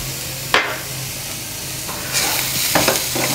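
Chopped green chillies sizzle loudly in a pan for a paratha filling, a continuous frying hiss broken by a few sharp scraping stirs and clatters of a utensil against the pan; no talking.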